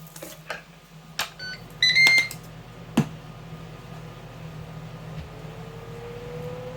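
A Ninja Foodi SmartLid is closed over sous vide steak: a few electronic beeps, then a single sharp clunk as the lid shuts, followed by a quiet, steady appliance hum.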